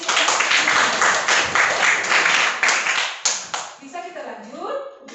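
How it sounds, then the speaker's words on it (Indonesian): A classroom group of pupils or teachers claps loudly and steadily for about three seconds, then the clapping fades as a voice begins speaking over the tail. "Tepuk tangan dulu untuk"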